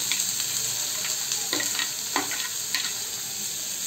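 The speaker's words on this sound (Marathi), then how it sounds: "आता कांदा छान लाल परतून घेऊया।" Finely chopped onion sizzles in hot oil tempered with cumin and mustard seeds, a constant bright frying hiss with a few scraping stirs of a spatula breaking through, close and with no voices.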